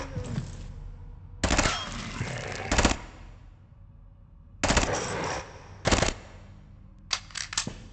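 Submachine gun fire in the game Quasimorphosis: several short loud bursts of rapid automatic shots separated by quieter pauses, ending with a few quick clipped shots.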